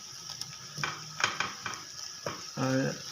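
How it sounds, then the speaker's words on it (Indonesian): Vegetarian fish fries in a pan while a utensil scrapes and taps against it. The steady sizzle runs under several clinks and stirring scrapes, close to the listener, with a brief voice-like tone near the end. "Ya, ini kita goreng sampai matang."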